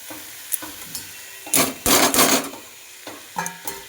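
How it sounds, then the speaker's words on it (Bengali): Pea greens with eggplant are stirred in a frying pan on a home kitchen stove. Irregular scraping and clattering bursts of the utensil, one long loud stretch in the middle, sit over a faint sizzle with no talking. "এইবার ভালো করে নাড়তে হবে শাকগুলোকে বেগুনের সঙ্গে।"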